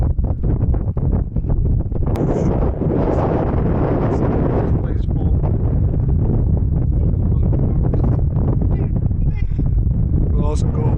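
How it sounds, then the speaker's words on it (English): Strong wind buffets the microphone at the earthen ksar of Ait Ben Haddou in Morocco, a loud continuous low roar with gusts that never lets up across the whole stretch. "It's very windy here."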